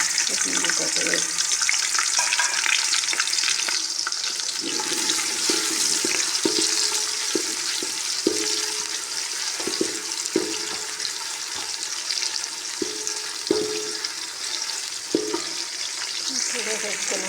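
Chopped onions fry in a cup of hot ghee while cooking a capsicum and potato dish, giving a dense, steady, close sizzle that runs the whole time, broken by occasional light knocks and scrapes of stirring.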